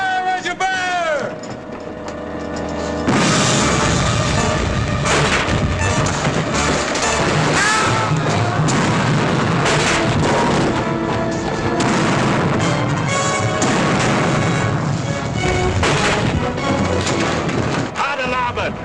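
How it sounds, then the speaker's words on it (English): Ship cannons fire a broadside in a 1952 seafaring film, a loud roaring barrage of booms and crashes that begins after a few seconds and continues densely, with shouted voices mixed in. "Prepare for broadside! Fire as you bear!"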